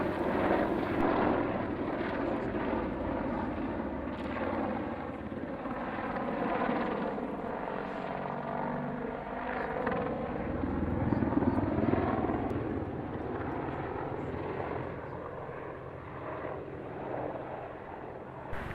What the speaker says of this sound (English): One Apache doing its display